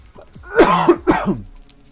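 A person coughs twice in quick succession, harsh and close, with a rough throat-clearing quality, then falls quiet.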